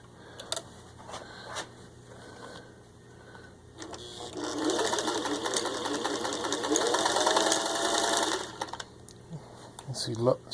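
A serviced vintage 1961 Singer 500A Rocketeer sewing machine stitches through six layers of denim, its dense mechanical whirr running close and steady for about four seconds after quiet handling, then stopping before a brief rustle.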